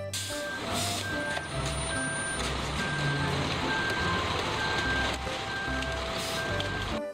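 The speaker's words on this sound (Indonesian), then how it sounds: "ini ada truk molen warna merah" A toy red cement mixer truck sounds loud, steady reversing beeps at an even pace, repeating throughout over a busy electronic motor hum with a low rumble beneath.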